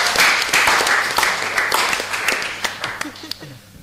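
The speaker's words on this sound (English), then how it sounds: "round of applause for that." A round of applause from a small crowd at a cricket show, with loud, dense clapping that thins into scattered individual claps as it fades over a few seconds.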